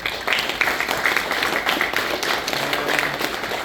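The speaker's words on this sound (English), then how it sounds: "how about a big round of applause again for this wonderful board here for doing so much work" An audience applauds the board at a PMI Baton Rouge Chapter 25th anniversary gathering, with steady, dense clapping filling the room for a few seconds and no voices over it.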